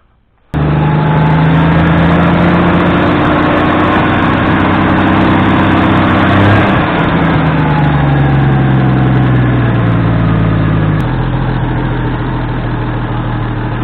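A GM inline six engine, Chevy 194/230/250 type, cranks and catches abruptly, then settles into a loud, steady idle around 800 RPM with an even droning rumble that dips slightly partway through. No one speaks.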